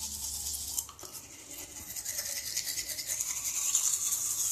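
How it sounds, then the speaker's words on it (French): Close, steady bristle scrubbing of teeth brushed with whitening anti-tartar toothpaste, a soft wet rasping that grows slightly louder and more rapid toward the end. "Et je me brosse les dents parce que ça agit."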